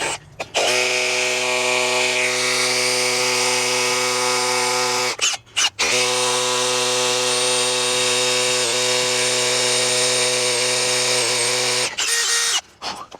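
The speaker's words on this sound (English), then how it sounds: "drill a little start hole" A loud, steady power drill drones continuously in two long runs, drilling a small start hole for a spike while working high up, stopping briefly between them and again near the end, with no voices.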